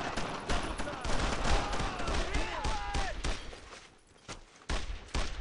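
Gunfire in Brothers In Arms: Road To Hill 30, a dense, loud fusillade of rifle and machine-gun shots in rapid bursts, with battlefield shouting mixed in and a brief lull before firing resumes.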